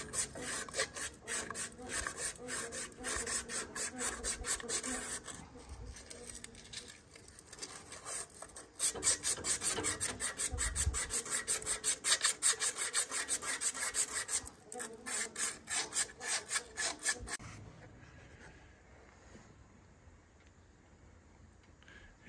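Emery cloth rubs rapidly back and forth over a steel shaft on a Wood-Mizer sawmill while bearings are changed, a close, steady rasping scrub with a brief lull midway, then stopping abruptly near the end.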